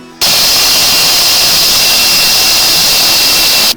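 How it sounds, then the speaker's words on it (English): A power saw rips steadily through a 4x8 sheet of plywood, cutting out side and front pieces, a loud continuous whine that starts abruptly and runs unbroken to the end with no talk. "I drew my actual sides and front pieces out on this 4x8 sheet of plywood, and I'm going to cut those out."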